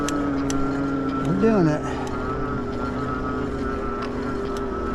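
A Senada Viper Plus e-bike motor with a torque sensor whines steadily as it climbs a hill, a constant electric hum mixed with wind, and a rider briefly speaks over it.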